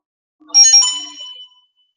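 A mobile phone ringtone briefly plays a bright electronic chime, loud and close, about a second long before cutting off, with no talk.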